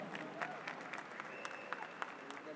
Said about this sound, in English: Some applause for Sonny